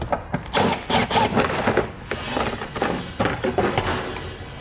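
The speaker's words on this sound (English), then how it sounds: "we'll pull the panel out and set it aside" A plastic interior trim panel is pulled free from a 2019 Toyota Highlander, a burst of close scraping, rubbing and rustling with sharp clicks and uneven bursts, no talking.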